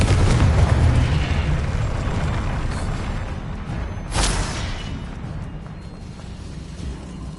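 A Confringo blasting curse in Hogwarts Legacy, a single short bright explosive burst near the middle, set over a loud continuous rumbling game backdrop that slowly fades.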